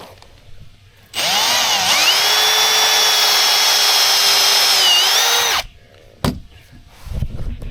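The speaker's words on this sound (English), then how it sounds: "pre-drill your splices. You don't split them out." A power drill bores pilot holes through wooden deck board splices: one steady, high whine running about four seconds and loud and close, then stopping into near quiet with a brief knock afterward.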